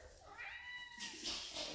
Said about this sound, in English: The cat's saying Happy Mother's Day.